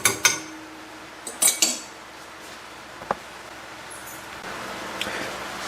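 Peppercorns crushed in a garlic press: a few sharp metallic clicks and crunches near the start and in the middle, then sparse small clinks over a quiet background.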